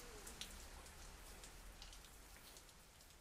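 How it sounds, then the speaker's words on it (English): Steady rain in the video game Zafehouse Diaries, a faint, even wash of patter with soft scattered drops and no talking. "The rain is easing up."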